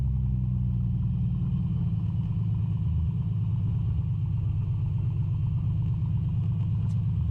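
A Piper PA-24 piston aircraft engine runs in Microsoft Flight Simulator, a steady, droning low rumble held at an even level throughout, with no talking.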